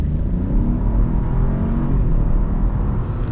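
A Chevy Trailblazer Activ accelerating hard in sport mode with front-wheel drive, a loud, steady engine roar and road rumble heard from inside the cabin, holding strong for a few seconds with no talking.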